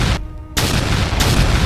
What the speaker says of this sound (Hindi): इसलिए गुस्से में मराठों ने किले की मीनार को तोप से उड़ा दिया।